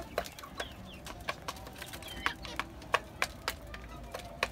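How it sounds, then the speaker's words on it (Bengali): Native desi chickens gathering around their feed on a rooftop, making scattered short clucks and chirps at an uneven pace, fairly quiet and close by. "এখন আবার এই যে খাবারের কাছে সবগুলা চলে আসছে মুরগি।"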